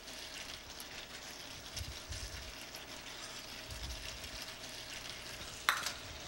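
Spring onions fry in a dakgalbi pan with a soft, steady sizzle, and a few low stirring bumps and a brief clink come through. No one speaks.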